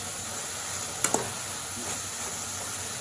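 Agathi greens (sesbania leaves) sautéing in a pan at home: a soft, steady sizzle throughout, broken by two quick clicks near the middle. No one speaks.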